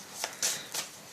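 Tarot cards slid and drawn from a deck during a reading, three soft papery swishes spaced across about a second, close and quiet with no voice.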